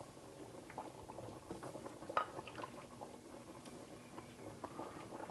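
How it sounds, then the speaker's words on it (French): A ladle of broth is poured over couscous semolina, a soft bubbling liquid trickle with light patter and small splashes, fairly quiet throughout. "Alors je vais prendre une louche de bouillon."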